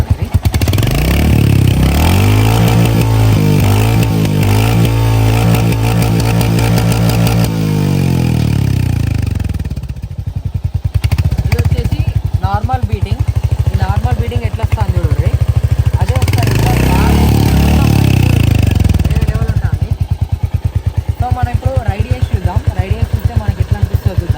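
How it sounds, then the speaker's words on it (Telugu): A Royal Enfield Hunter 350 in dapper green runs nearby. Its single-cylinder engine idles with a loud, steady thump and is revved repeatedly in rising and falling sweeps, with some talking mixed in. "మనమైతే ఇప్పుడు రేసింగ్ ఇచ్చి చూద్దాం సేమ్ మనకి బండి సౌండ్ ఎట్లా వస్తుంది"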